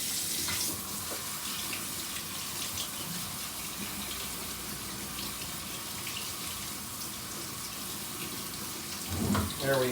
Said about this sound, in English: So that is my black beans that have been drained and rinsed.